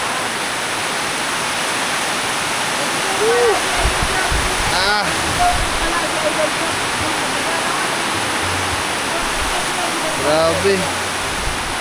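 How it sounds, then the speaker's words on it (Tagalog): Heavy typhoon rain pours down in Bohol as a dense, loud, continuous roar of water with splashing, while someone speaks briefly over it. "ang lakas ng ulan"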